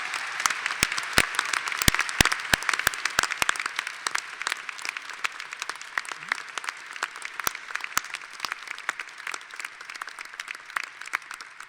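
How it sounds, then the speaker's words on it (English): A commencement audience gives a sustained round of applause for master's graduates, with dense even clapping and sharp individual claps standing out, continuous for about twelve seconds with no talking. "we can all give the round of applause for our master's graduates"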